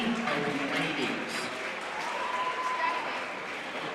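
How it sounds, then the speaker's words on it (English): Audience applause at a netball grand final presentation, steady dense clapping throughout at moderate level, with a faint voice briefly audible underneath. "keep the applause running"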